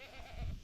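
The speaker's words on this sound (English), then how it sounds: "The goats are hilarious because they just love attention." A goat at a ranch lets out a single faint bleat, short and quavering at a distance.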